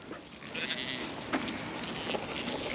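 Pregnant ewes due to lamb bleat in a farm setting, several drawn-out calls at moderate distance over a continuous background hum.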